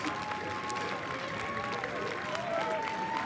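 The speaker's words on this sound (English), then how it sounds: "Crowd cheering him on." A crowd cheers and applauds a rider at a bicycle race on a soft track, a steady broad roar with scattered claps and shouts throughout, fairly close and continuous.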